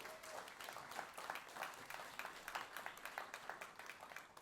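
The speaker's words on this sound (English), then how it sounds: "Please give them a round of applause." Audience applause at an education convening, a dense steady patter of many hands clapping at moderate distance, continuing evenly throughout.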